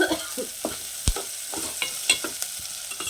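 Dried shrimp and tomatoes fry in a pan with a soft, close sizzle, punctuated by a series of sharp scraping and tapping stirring strokes at uneven intervals.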